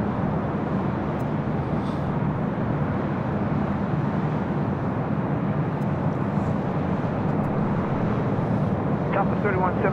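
A jet airliner taking off from the south-side runways at LAX roars as a steady, broad, continuous rumble, with faint speech audible under the engine noise.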